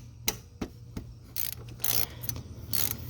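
A ratchet loosens a 10 mm bolt on an R-134a automotive A/C compressor near the clutch coil, giving a few sharp, close clicks followed by short raspy ratcheting bursts.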